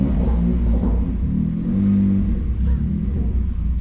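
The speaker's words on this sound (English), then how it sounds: "Maybe a little bit too much revs" A rebuilt BMW M2 engine revving as the car pulls away in first gear on private land, a deep rumbling growl that swells mid-clip and stays loud and close throughout.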